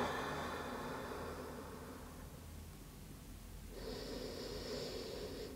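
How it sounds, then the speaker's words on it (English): A slow, deep breath during a yoga session, a long soft exhale that fades, then a steady inhale, close and breathy with no talking. "Deep breath here."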